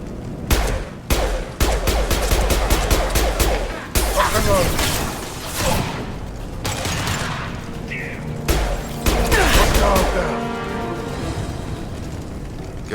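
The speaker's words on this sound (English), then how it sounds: "Blue Suns and Vorcha shooting anything that moves." Gunfire from Blue Suns and Vorcha fighters in the video game Mass Effect 2: loud bursts of rapid shots and heavy booms in bunches, with pauses between volleys and a voice speaking over parts of it.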